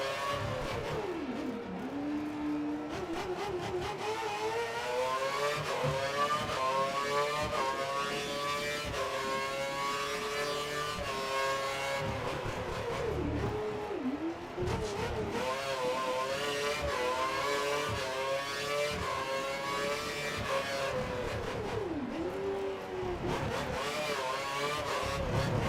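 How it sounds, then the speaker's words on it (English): A Formula One race car in the F1 2013 video game, racing at night in Singapore with a suspected gearbox problem, revs hard through repeated upshifts and downshifts, its engine whine rising and dropping in continuous waves. "the car starts to sound a bit weird"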